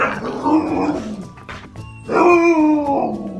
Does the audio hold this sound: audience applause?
no